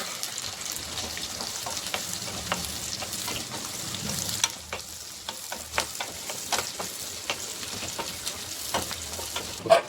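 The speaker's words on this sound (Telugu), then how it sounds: "పచ్చిమిర్చి వేసుకోవాలి, ఆనియన్ ఉల్లిపాయలు వేసుకోవాలి, వెల్లుల్లిపాయలు వేగించాలా బాగా" Green chillies, onions and garlic fry in a hot pan for a sambar, with a steady crackling sizzle and repeated clinks and scrapes of stirring throughout.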